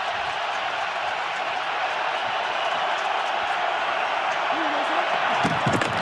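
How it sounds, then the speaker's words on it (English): Football crowd at Lambeau Field during a Packers–Bears game sends up a steady broad roar of cheering, loud and unbroken throughout, with a commentator's voice talking over it near the end. "Here comes the crowd at Lambeau"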